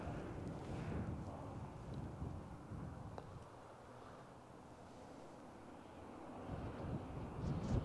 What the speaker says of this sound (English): the wind's from all directions